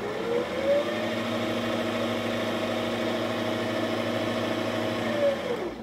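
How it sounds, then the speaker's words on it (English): Singer SewMate 5400 sewing machine winding a bobbin under pedal control, a steady motorized whir running unbroken for about six seconds with a slight rise at the start and a fall-off at the end. "push on the pedal, and the bobbin will start winding"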